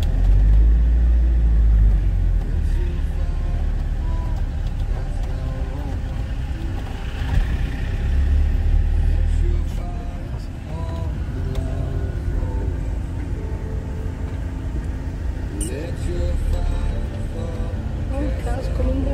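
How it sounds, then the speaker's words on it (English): A car drives down a narrow road past a parked van, its engine rumble and tyre noise steady and close for most of the stretch, with voices talking over it. "Oh, car's coming down."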